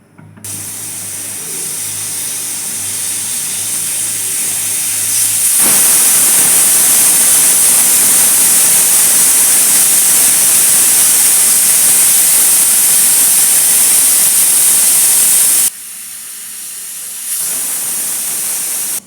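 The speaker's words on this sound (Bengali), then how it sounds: "এখন প্রেশার কুকারে সিটি দেব।" A pressure cooker vents steam in a loud, sustained hiss that builds, holds strongly for about ten seconds, breaks off, then resumes, with a low hum at the start.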